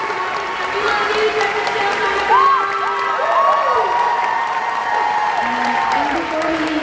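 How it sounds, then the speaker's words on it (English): A fan convention audience claps and cheers loudly for a guest actress, with steady clapping under rising whoops and excited shouted voices, some high-pitched, continuing for several seconds. "I need just a huge, huge round of applause for Melissa"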